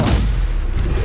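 The Stupefy spell is cast in the video game Hogwarts Legacy. It lands as a single loud, booming burst that fills the short moment, with a dense low-end thump and no voices.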